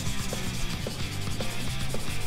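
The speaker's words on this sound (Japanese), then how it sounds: "1000番ですねスポンジヤスリを水研ぎでこの塗装するねボディの表面を" A plastic model car body, an R32, wet-sanded with a 1000-grit sponge sandpaper before primer, giving a loud, close, steady rhythmic rubbing with regular back-and-forth strokes.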